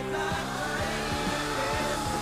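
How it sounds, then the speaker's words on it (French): A hair dryer runs steadily and close to heat an egg while preparing a meal, a constant loud motor whir with a rising hum and faint periodic ticks, and no one speaks. "Il s'agit de mon sèche-cheveux."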